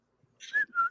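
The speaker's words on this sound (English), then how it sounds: "I whistle while I work" A person whistles a short tune of two sustained tones, close and fairly loud, after a faint breathy start.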